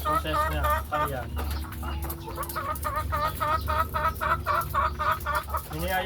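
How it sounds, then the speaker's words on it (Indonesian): Hens cluck repeatedly in rhythmic bursts on a poultry farm, a steady low hum underneath and talk faintly present. "Ini ayamnya bunyi-bunyi terus."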